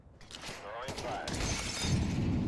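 In Counter-Strike 2, a flashbang grenade goes off with a glassy shattering burst, heard close, while a player talks over the game sound.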